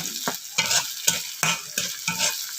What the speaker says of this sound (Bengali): এখন আমি এর মধ্যে কয়েকটা চাপা শুটকি দিয়ে দিচ্ছি তাকে পেঁয়াজ রসুনের সাথে ভালো করে ভেজে নিব